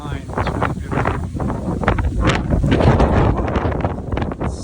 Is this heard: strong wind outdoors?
yes